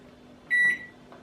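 Microwave oven holding a chocolate mug cake gives a low, steady hum, broken midway by one loud, clear electronic beep lasting about a quarter second.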